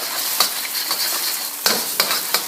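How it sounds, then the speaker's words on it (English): Eggs scrambled and frying in hot oil in a pan, a loud close sizzle with sharp scraping stirs of a utensil every fraction of a second, no talk. "Scramble these up"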